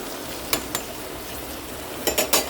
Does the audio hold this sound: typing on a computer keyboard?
no